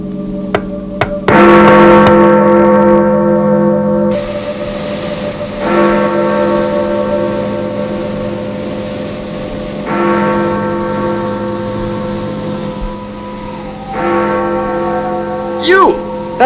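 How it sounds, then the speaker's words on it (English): Bell chimes ring out in clear, sustained tones, struck in several separate groups a few seconds apart, each leaving a long ringing decay. Other sounds rise briefly near the end. "Interesting chimes you have there."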